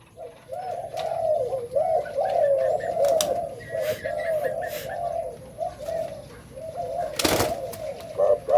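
A dove gives repeated soft, rolling coos in a steady series, close and clear over faint background noise, with a brief rustle or thump near the end.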